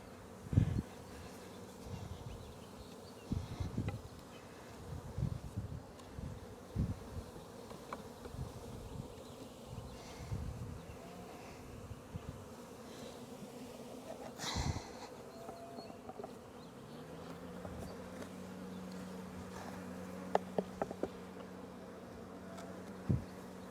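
Honeybees buzzing around an open hive during an inspection, a dense continuous hum with individual bees droning close past, a few handling knocks and bumps early on, and no talking.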